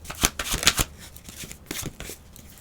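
Tarot cards being shuffled by hand, several quick riffling bursts close up, followed by lighter slides and flicks as cards are drawn one at a time.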